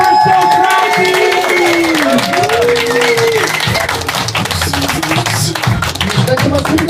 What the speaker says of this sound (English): Clap your hands, stomp your feet.